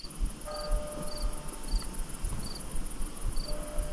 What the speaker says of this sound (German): Man hört noch Grillen hier, traumhaft, echt.